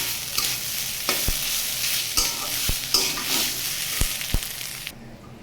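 Grated coconut dry-fried in a pan over low heat, a soft steady sizzle with several sharp scrapes and knocks of a spatula stirring against the pan, close and without talk.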